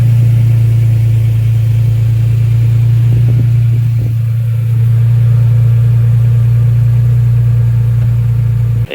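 A Toyota Tacoma with a TRD cat-back exhaust idles loud and close, its deep, steady rumble holding for about nine seconds before cutting off abruptly.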